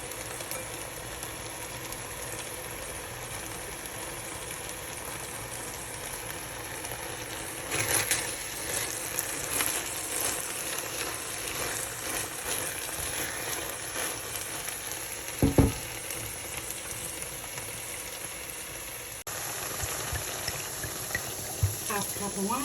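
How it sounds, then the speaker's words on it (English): Asparagus sautés in a pan with a continuous soft sizzle and frying hiss, broken by occasional stirring clinks and scrapes of a utensil against the pan. "saute the asparagus."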